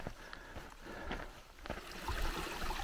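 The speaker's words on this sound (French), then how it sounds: "Ce beau ruisseau qui coule des nuvets là-haut." A mountain stream fed by snowfields runs close by in a high valley, a steady broadband rush of flowing water with a few brief splashy accents and rising slightly toward the end.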